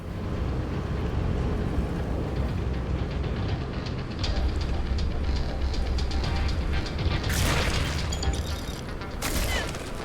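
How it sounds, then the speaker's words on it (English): Rumbling explosions and booming blasts in the Starfield video game, a dense, continuous roar of low rumble with sharper bursts near the end, loud throughout with no talking. "I don't know what those explosions are, if it's coming off the creatures or what."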